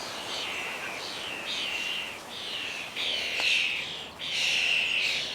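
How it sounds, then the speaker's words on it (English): A flock of starlings and their juveniles feed noisily at garden feeders, giving repeated harsh, wheezy calls in overlapping bursts that sound close and moderately loud against a quiet outdoor background. "a flock of starlings brought the kids over for a feast. Hearing the raucous noise,"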